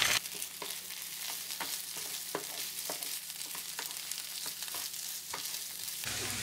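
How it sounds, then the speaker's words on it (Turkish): Rice for olive-oil stuffed vine leaves with tomato paste sizzles steadily in a pan. A spoon stirs and scrapes it at a regular rhythm, fairly quiet and close, with no talking. "30 saniye kadar, yarım dakika kadar kavurduktan sonra 2 su bardağı güzelce yıkayıp süzdüğümüz pirinci ekleyelim"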